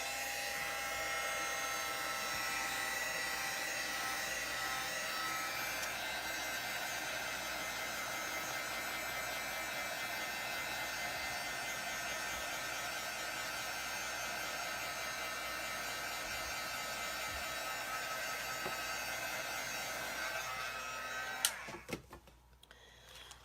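Heat tool drying a paper bag art journal page, a loud, continuous blowing roar held steady for over twenty seconds close by, then switched off with a few clicks and handling noises.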